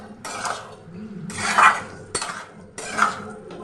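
Metal clatter from a cooking pot holding bottle gourd and fish as a lid is set over it, three separate close clanks and scrapes spread across a few seconds.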